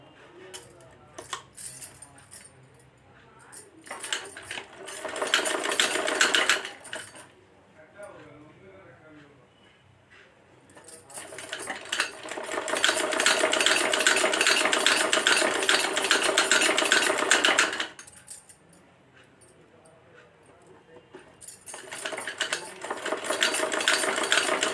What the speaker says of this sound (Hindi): कपड़े को इस तरह हल्का सा अंदर की ओर फोल्ड करके हम यहाँ पर सिलाई लगा लेते हैं।